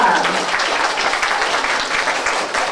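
An audience applauds a first-place literature winner at a school award ceremony. The clapping is dense, loud and sustained throughout.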